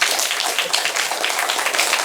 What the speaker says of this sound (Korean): 이런 대목에서는 줄로 깨시면서 박수 한번 치셔도 되는데